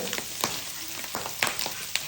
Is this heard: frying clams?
yes